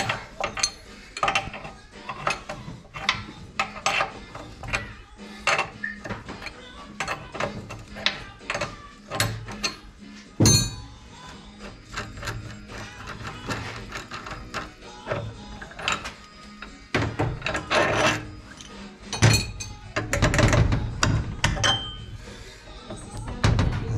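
A Lambretta silent block being drawn out on a bolt in a home workshop: a long run of repeated metallic clicks, ratchet-like ticks and clinks, close and fairly loud, with occasional faint voice.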